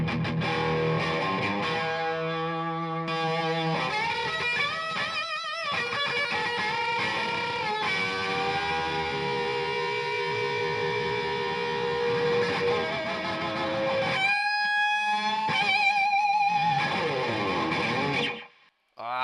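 Electric guitar fitted with a P90 pickup played through an overdriven Marshall amp and pedal effects, with sustained distorted chords and notes that shift and swell loudly for most of the passage, then briefly drop out near the end.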